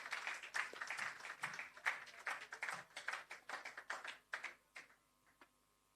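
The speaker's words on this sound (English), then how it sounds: "Give him a round of applause as well" Scattered clapping from a small audience at a roof handover ceremony, a handful of distinct claps in uneven rhythm that thin out and stop near the end.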